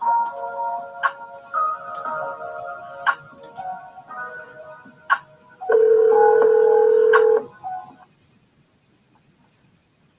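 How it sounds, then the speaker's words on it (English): A telephone being dialed, with a series of short keypad tones, then a steady, loud ringback tone for a couple of seconds before falling quiet. "we better ring this phone again."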